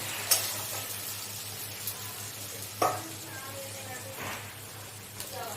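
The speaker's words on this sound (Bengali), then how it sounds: "পেঁয়াজটা আমার ভাজা ভাজা হয়েছে।" Chopped onions fry in a pan with a quiet, steady sizzle, broken by a few sharp scrapes and taps of stirring. A soft hum sits underneath.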